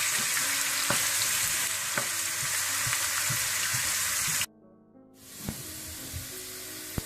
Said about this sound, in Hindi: इसको आप हल्की फ्राई कर लें, हल्की ब्राउन कलर में फ्राई कर लें।